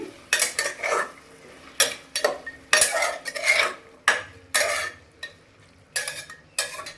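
A metal spoon stirs beans and carrots into vegetable sambar in a pot, sounding as repeated close scraping and clanking strokes in an irregular rhythm, with short pauses between bursts and no talk.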